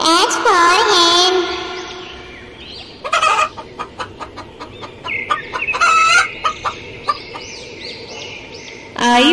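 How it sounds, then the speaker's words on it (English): A hen clucks loudly nearby, with a rapid run of sharp clucks and squawks, separate calls spaced out across the clip. "H for hen."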